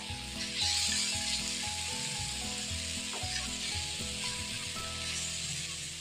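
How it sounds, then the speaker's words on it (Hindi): Tomato masala sizzles and hisses steadily as it fries in a pan, with a continuous bright crackle and occasional stirring scrapes. A low tonal hum runs underneath, and nobody talks. "मसाले को अच्छे से भूनेंगे"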